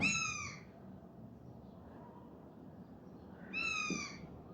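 Two raspy, harmonic squawks from a bird, one at the start and another a few seconds later, moderately faint over low background hiss.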